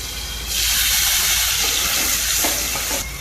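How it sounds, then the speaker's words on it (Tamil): Sliced onions with salt sauté in a hot pan for chicken thokku, giving a steady, close, loud sizzle and hiss with faint stirring scrapes and no talk. "உப்பு சேர்த்து நல்லா கிண்டுவோம். வெங்காயம் நல்லா வதங்கட்டும்."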